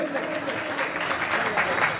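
An audience at a community gathering applauds a donor, with dense, steady clapping filling the whole stretch and a few voices mixed in.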